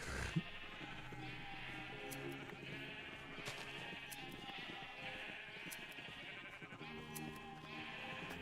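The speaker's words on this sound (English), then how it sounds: "All I hear is sheep." Minecraft sheep bleat constantly, a dense chorus of overlapping game-style baas repeating throughout at a steady, fairly loud level with no talking.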